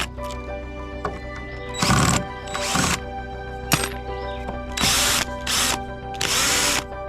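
A power tool cuts through metal screws in greenhouse boards, with several loud buzzing bursts of one to two seconds each between short pauses over a steady background hum.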